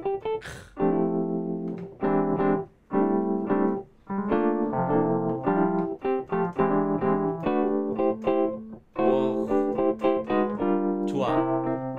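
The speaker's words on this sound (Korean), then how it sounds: "월리쩌 소리들은" Wurlitzer electric piano preset played on an Arturia MicroLab keyboard, a series of clear, bell-like chords and short phrases, close and bright, with brief gaps between them and no talking.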